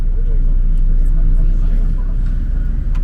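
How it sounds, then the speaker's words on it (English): Steady road traffic on a Paris street, a continuous low rumble of cars and buses moving past nearby, filling the whole stretch at a fairly loud, even level. "This is the traffic side"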